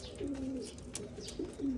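Pigeons cooing in a free-flight loft setting, several soft low coos repeating close by, with faint background noise and no talk.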